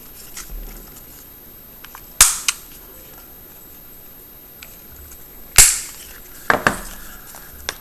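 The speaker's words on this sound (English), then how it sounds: "Then I take a corner rounder and I just round off the edges to give it a more cleaner look." A corner rounder punch trims paper corners for an Easter basket craft, giving two sharp, loud snapping clunks a few seconds apart, each followed by quieter clicks.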